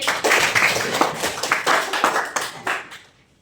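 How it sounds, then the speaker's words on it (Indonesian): Students in a classroom clap in a brief burst, a handful of close, distinct hand claps with an uneven rhythm that thins out and stops near the end. "Oke, beri tepuk tangan dulu."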